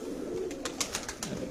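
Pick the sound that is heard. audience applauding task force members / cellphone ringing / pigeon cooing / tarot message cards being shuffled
pigeon cooing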